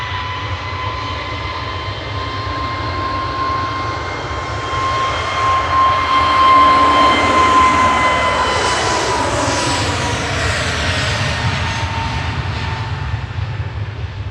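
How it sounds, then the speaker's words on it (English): Departing Manchester for Keflavik, a Ryanair Airbus A321neo jet roars loudly with a steady whine on top. The sound swells as it passes close, sweeps through shifting tones and then fades a little, with no voices. "Departing next is Ryanair to Keflavik, A321neo GUZMB with flight"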